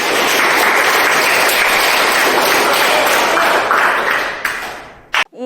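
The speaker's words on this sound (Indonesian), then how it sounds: "Beri tepuk tangan pada Nilu." Students in an Indonesian classroom clap together for a classmate, a thick, even patter of hands that holds steady for about five seconds and then trails off into a few scattered claps before stopping abruptly.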